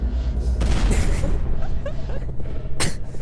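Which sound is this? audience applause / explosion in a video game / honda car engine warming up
explosion in a video game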